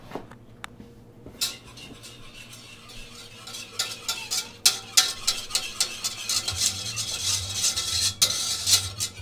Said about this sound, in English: I've got a 1/4 cup of flour here. I'm just going to sprinkle that on and whisk it in.